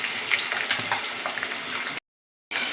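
Eggs frying in oil in a wok give a steady crackling sizzle with small pops, broken by a brief half-second gap of silence before the sizzle resumes, with no talk.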